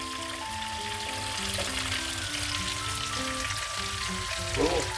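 Tomatoes frying in mustard oil gravy for a Bihari fish curry, a steady close sizzle over low flame with faint tonal hum in the background, no talking.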